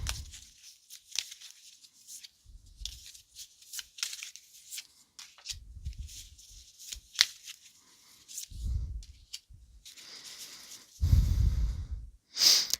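Tarot cards are shuffled in scattered soft bursts of riffling and sliding, quiet and close, with short pauses and low thumps between handfuls and no speech.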